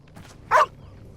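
A single short, bright bark from a dog in the game Two Falls, loud and close against a quiet background, preceded by faint rustling.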